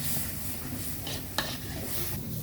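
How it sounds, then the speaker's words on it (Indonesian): Spice paste stir-fried in hot oil for a jengkol dish gives a soft, close sizzle under scraping and stirring, with one brief clink of a utensil against the pan. "Ini sudah panas minyaknya, saya masukkan bumbunya ya. Ini saya tumis dulu bumbunya sampai benar-benar matang ya"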